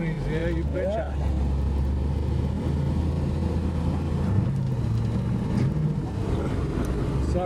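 A 1960 Dodge Polara said to make about 500 horsepower gives a deep, steady engine rumble heard from inside the moving car as the accelerator is lightly pressed, with wind noise and people talking over it.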